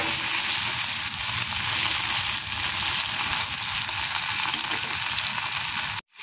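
Tomatoes sizzle loudly in hot soybean oil in a pan, a dense, steady crackling fry that runs without pause before cutting off abruptly at the end.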